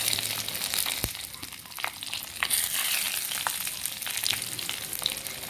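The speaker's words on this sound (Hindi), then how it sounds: "तो मेथी दाना को थोड़ा सा ब्राउन होने देते हैं, जलने नहीं देना है हमें" Fenugreek seeds and black pepper fry in hot oil for tempering, giving a constant close sizzle dotted with sharp pops and crackles, with no talking.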